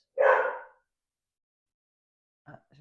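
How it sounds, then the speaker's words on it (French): A pet dog barks once, a loud, close bark, then after a pause gives a couple of quieter, shorter yips. "j'ai mon chien qui aboie"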